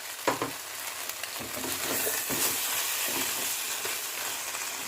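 Eggplant frying with ginger and poppy seed paste in a pan, a close, continuous sizzle with soft scrapes and bumps as it is stirred and cooked down.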